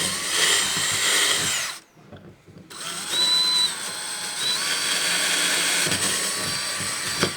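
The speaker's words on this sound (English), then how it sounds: "we're going to hold it in place while we drill 2 new 1/4 inch pilot holes" A power drill whines loudly at close range, pausing briefly after a couple of seconds, then spinning steadily again as it bores 1/4-inch pilot holes while installing a rack on a Jeep Gladiator JT.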